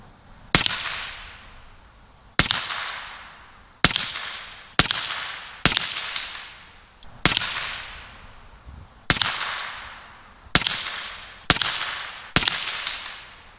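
A Western Rattler .357 bullpup rifle fires ten sharp, loud shots at a slow, steady pace one to two seconds apart, each crack trailing off in a short echoing decay, with no talking.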